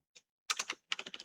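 A few quiet keystrokes on a computer keyboard: one soft tap, then two quick bursts of rapid typing in a close, quiet room.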